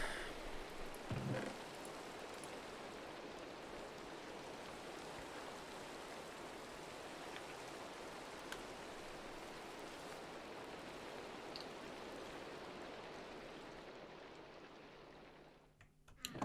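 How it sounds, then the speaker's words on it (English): Steady, even rain from the Minecraft video game, a continuous soft hiss of falling drops that holds at a constant level with no voices, ending abruptly. "I hate rain in Minecraft."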